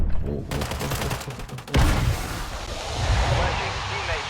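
Rapid gunfire bursts and booms from a Call of Duty Warzone match, loud and dense, with a heavy impact near the middle and continuous shooting after it, under game voice announcements and player talk.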